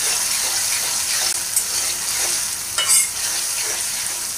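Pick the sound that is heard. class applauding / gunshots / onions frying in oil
onions frying in oil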